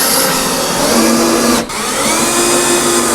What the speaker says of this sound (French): C'est une perceuse qui marche sur le 18 volts.